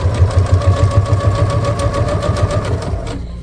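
A sewing machine stitches and wraps the binding of a baby quilt, its fast mechanical chatter running steadily and fairly loud throughout, then cutting off near the end.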